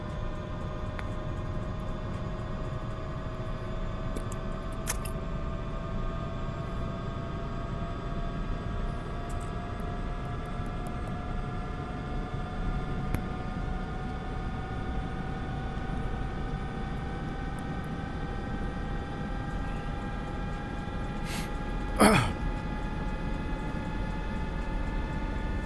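Helicopter rotor and engine in a helicopter video game: a steady, droning hum with layered tonal whines that slowly climb in pitch, continuous throughout, with a sharp brief click near the end.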